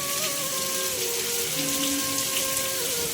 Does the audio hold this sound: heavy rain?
yes